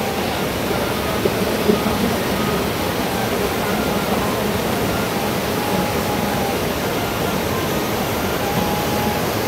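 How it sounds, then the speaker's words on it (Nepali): A swollen stream in Dharan rushes in monsoon flood beside a children's park, a steady broadband roar of torrential water that fills the whole stretch without break. "यो खोला निकै ठुलो बगिरहेछ"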